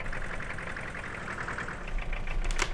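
A vintage tractor engine runs steadily at close range with a rough, knocking idle-like rhythm, growing slightly louder toward the end.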